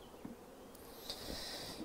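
Honey bees buzz at an open hive, a soft steady drone with individual bees whirring past close by, faint and without voices.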